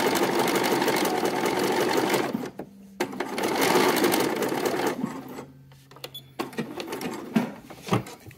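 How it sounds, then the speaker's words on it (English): A sewing machine stitches T-shirt fabric in bursts, a close, loud mechanical whirr that stops and restarts several times with short pauses between runs. "You can see I can like scrunch it up and the machine pushes it through on its own."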